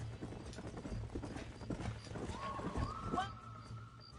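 Horse hooves clip-clop in the video game Red Dead Redemption, a faint rhythmic trot beneath character dialogue, with a rising tonal sound near the end.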